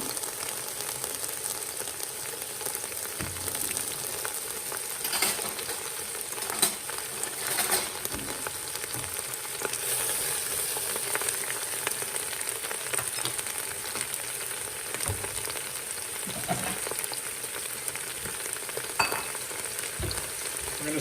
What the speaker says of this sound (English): Little canola oil on the bottom. We're gonna put in our shrimp shells first and our heads.